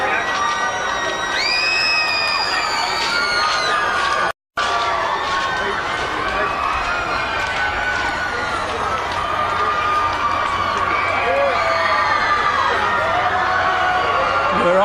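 A large crowd of Michael Jackson's fans cheers and shouts outside court, a dense, continuous roar with high whistles and screams layered throughout, steady and loud, briefly cut off by a short gap near the start.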